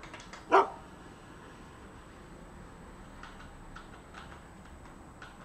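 Single sharp dog bark from the survival game UnReal World, short and fairly loud over a quiet background hiss, followed by faint soft ticking sounds.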